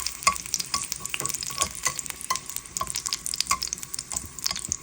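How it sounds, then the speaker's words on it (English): Garlic sautéing in hot oil, a steady close crackling sizzle with irregular spatter pops and light stirring throughout, no talking. "So I am going to saute my garlic in the oil."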